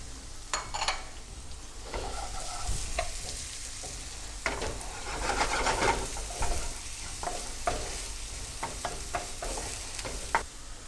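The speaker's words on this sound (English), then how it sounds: "We can add our chopped onions." Chopped onions sizzle in hot oil with ginger and garlic, a continuous close frying hiss broken by repeated scraping stirs and small pan knocks, fairly loud and with no talking.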